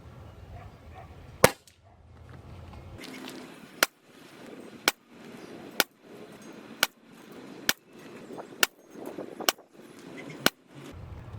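Mrod Air Max PCP air pistol firing .177 Barracuda Match 10.65 grain pellets through a chronograph, heard as about ten sharp, evenly spaced cracks roughly a second apart, with quiet handling between shots.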